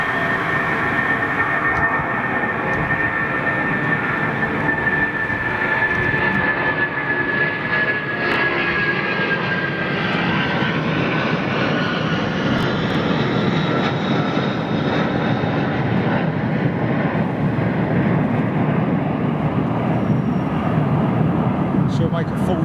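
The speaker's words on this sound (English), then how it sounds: "RB211's powering this aircraft" A Rolls-Royce RB211-powered airliner roars steadily on departure from Heathrow, a loud continuous broadband engine rumble with a whining tone that slowly falls in pitch, filling the whole stretch without letup.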